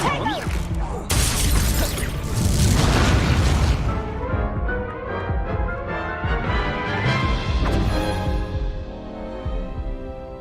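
In the video game Hogwarts Legacy, a Confringo spell bursts into a loud, booming explosion with shattering debris, and the rumble keeps ringing for several seconds as it slowly fades.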